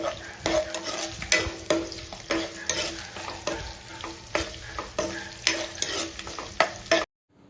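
Onion, green chili and curry leaves fry in hot oil, a close steady sizzle broken by regular scraping stirs of a spoon against the pan, then cutting off abruptly.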